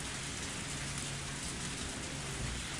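Rain in the visual novel Higurashi Tatarigoroshi hisses as a faint, even wash of falling drops, a steady background patter with no voices.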